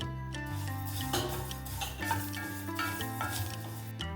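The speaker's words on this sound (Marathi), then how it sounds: "आपण यामध्ये ना मेथी दाणे घालून घ्यायचे आणि ही मोहरी घालून घ्यायची।" Fenugreek and mustard seeds dry-roast in a pan as a spatula gives repeated rough scraping stirs over a faint sizzle. Steady tuneful music plays softly underneath.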